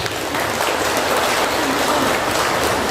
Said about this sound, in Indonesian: Kita berikan aplaus untuk Bapak.